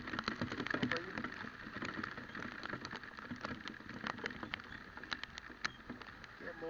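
Rain falling on a moving car during a drive, a faint, dense pattering of drops with scattered sharper taps over a low road and engine hum, quiet and continuous throughout.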